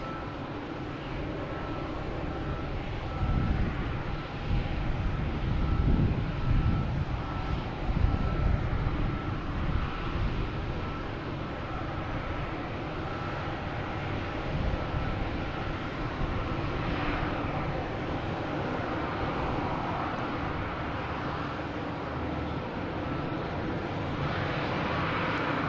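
An Alaska Airlines jet at Boston Logan Airport produces a long, broad engine roar that swells over the first seconds, then holds as a steady rumble and whine from a moderate distance, with some wind buffeting and no voices.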